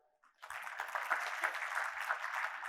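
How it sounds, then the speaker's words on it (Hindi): Audience applause in a seminar hall on happy marriage, a steady, dense wash of many hands clapping that starts abruptly and continues without a break. "ताली बजा लो,"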